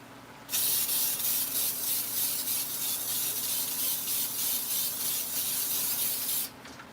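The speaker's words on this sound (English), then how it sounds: "let me spray the top" A single continuous hissing spray from an aerosol can of cooking spray, close and steady for about six seconds, then stopping abruptly.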